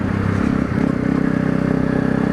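A motorcycle rides on a freezing morning around -5 degrees, its engine a loud, steady close-up drone mixed with wind rumble and rattling, with no voices.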